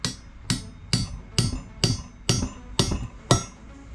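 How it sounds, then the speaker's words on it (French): Light tapping from a small hammer driving a valve stem seal into a 1.9 TDI cylinder head; eight evenly spaced, sharp close knocks about half a second apart, each with a brief ring, no talk. "je vais pouvoir taper dessus doucement avec un petit marteau"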